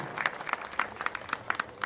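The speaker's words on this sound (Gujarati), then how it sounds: "તાળીઓથી વધાવી દો" A small audience at a devotional bhajan program claps to welcome the tabla accompanist; sparse, distinct handclaps sound in an uneven rhythm, fairly quiet.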